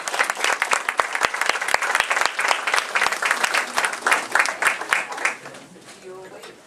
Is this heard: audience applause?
yes